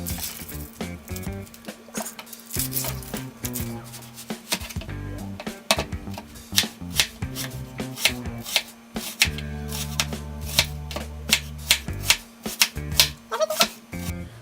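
Onion being cut up on a board, brisk irregular knife strikes and clatter running throughout, fairly loud and close, with music-like tonal layers underneath and no talking.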